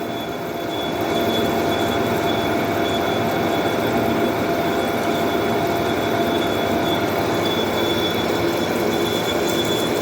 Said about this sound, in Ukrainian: Потім перейшов на 100 обертів і нормально так все точиться.